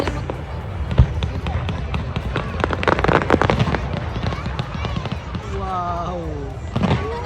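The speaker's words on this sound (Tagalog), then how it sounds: "Beautiful ang fireworks!" Fireworks burst at the Nutrien Fireworks Festival in Saskatoon, a steady run of sharp cracks and booms from moderate distance, with onlookers chattering and exclaiming throughout.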